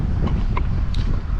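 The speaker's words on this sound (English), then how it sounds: "Sorry about the wind." Wind buffets the microphone outdoors on a hot 100-degree day in Central Texas, a steady low roar and rumble filling the whole moment without letup.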